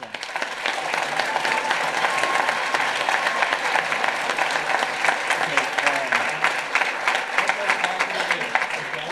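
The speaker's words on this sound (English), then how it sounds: "Have a round of applause for that." Council chamber audience gives a round of applause, steady clapping from many hands throughout with some talking mixed in.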